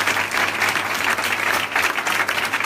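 A congregation at a French prayer gathering breaks into steady, dense applause with some cheering, loud and continuous throughout, with no speech over it.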